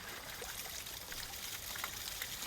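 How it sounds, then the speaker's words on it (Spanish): A steady stream of water trickling and pouring at an outdoor campfire cooking setup, a soft, even flow that stays fairly faint and constant with no talk. "Flujo de agua desatado."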